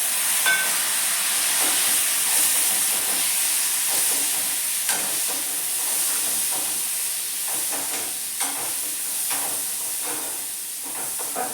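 Chickpeas frying in a hot pan with sautéed ingredients give a steady, close hiss and sizzle with scattered crackles and small pops throughout, no voices.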